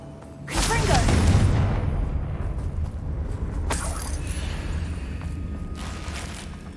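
A Confringo spell blast in Hogwarts Legacy bursts out loudly near the start, trailing into a rumbling boom, with a second sharper burst a few seconds later over steady game ambience and background music.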